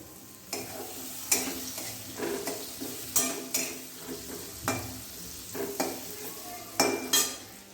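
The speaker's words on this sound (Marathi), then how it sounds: "हे बटाटे जे आहेत ते खरपूस भाजून घ्यायचे आहेत म्हणजे तेलामध्ये खरपूस परतायचे आहेत" Potatoes frying in hot oil to crisp up for a fasting-style misal, giving a steady close sizzle broken by repeated sharp stirring scrapes and clatters of a utensil against the pan.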